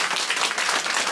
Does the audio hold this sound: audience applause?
yes